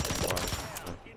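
A short burst of gunfire in Call of Duty Warzone Resurgence, dense overlapping shots that fade out toward the end of a brief moment.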